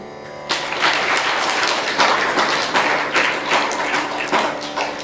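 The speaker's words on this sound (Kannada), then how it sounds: "ಚಪ್ಪಾಳೆ ಬಿಡಿ ನೋಡಿ." An audience at a village idol-installation ceremony breaks into loud sustained applause, many hands clapping densely and evenly after a sudden start.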